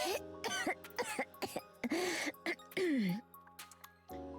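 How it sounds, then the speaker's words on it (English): A character in the video game NIKKE coughing and clearing her throat in several rough bursts amid soft chimes and background game music, close and fairly quiet. "will your cough never get better?"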